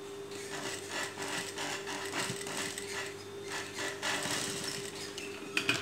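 A sewing machine stitching a girl's dress, its needle clattering in a steady rapid mechanical rhythm with a constant motor hum, close and alone without talk.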